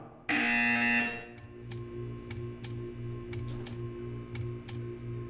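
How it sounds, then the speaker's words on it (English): A loud, harsh electronic buzzer from the video game Portal 2 blares for about a second, followed by soft repeated ticking and clicking in the background. "You will hear a buzzer."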